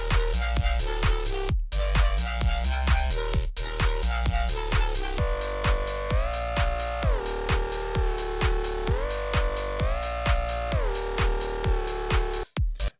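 A looping EDM synth bass riff built in Serum 2 plays loud and alone for about thirteen seconds, with steady repeated plucky notes, a brief dropout near the two-second mark, and a mid-section where a sustained tone rises and falls.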